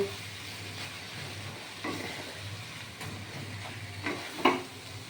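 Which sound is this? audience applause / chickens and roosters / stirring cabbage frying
stirring cabbage frying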